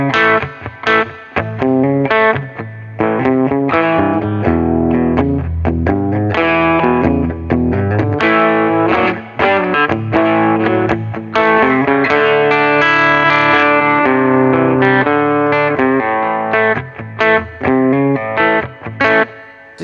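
Electric guitar played through a Fender Super Champ XD amp with the gain raised, a compressor and reverb, giving a slightly dirty clean tone. Strummed chords and picked notes ring out loud and continuous, alone with no talk.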